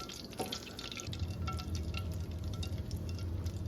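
Butter browning in a pan while cooking brown butter for chocolate chip cookies: a quiet, steady sizzle and crackle of bubbling fat with small pops and occasional stirring clinks, close and continuous.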